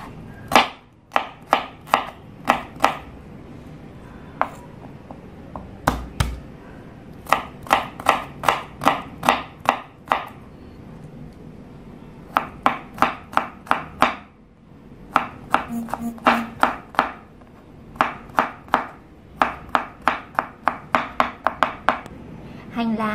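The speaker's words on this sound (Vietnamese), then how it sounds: "Hành tỏi các bạn đập dập băm nhỏ." A knife minces crushed garlic and shallots rapidly on a cutting board in quick bursts of sharp taps, pausing briefly between rounds of mincing, close up.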